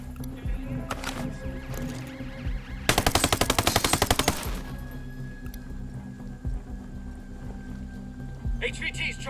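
Automatic gunfire in the Ghost Recon Breakpoint video game, a loud rapid burst of evenly spaced shots lasting over a second, set among quieter game ambience with scattered thuds and faint voices.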